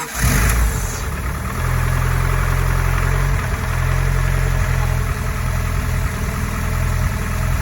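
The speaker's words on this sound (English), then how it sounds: "The engine runs. Sounds like it doesn't knock." A truck engine starts and settles into a steady, even idle with a deep rumble and no knocking, running close and loud throughout.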